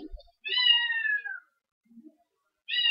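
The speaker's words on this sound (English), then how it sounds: "Sorry for the kitties in the background." Foster kittens shut in a kennel give a long, drawn-out meow, then a second one starts near the end, fairly clear against quiet surroundings with a few soft bumps between the cries.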